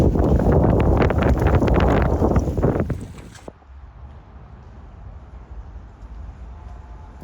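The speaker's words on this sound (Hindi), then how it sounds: "भाई हवा इतनी तेज़ चली" Strong wind buffets the microphone outdoors near Chisinau station in Moldova, loud gusty roaring for about three seconds that then drops to a quieter steady rush.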